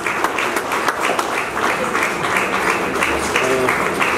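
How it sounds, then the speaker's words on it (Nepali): Clapping from an audience at an honouring ceremony for Grand Master Tulsi Kumar Gurung, brisk and rhythmic, rising and falling in loudness, with a voice speaking over it briefly. "कृपया जोरदार ताली बजाइदिनु होला।"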